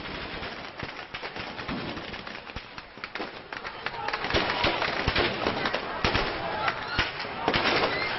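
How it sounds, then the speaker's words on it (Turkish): Rapid bursts of automatic gunfire crackle continuously, many sharp overlapping shots from a distance amid a noisy, chaotic background. "çok sayıda otomatik silah ateşleniyor."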